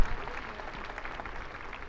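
A congregation at an Easter celebration concert claps for Jesus Christ, a fairly soft, steady patter of many hands heard from a distance.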